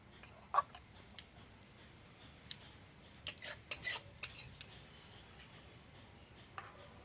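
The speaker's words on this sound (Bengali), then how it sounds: "এই আচারটাকে প্লেটের মধ্যে ঢেলে নেব।" Sweet-sour karamcha fruit pickle being tipped onto a plate, heard as faint, scattered clinks and scrapes of a spoon against the dish over a quiet room.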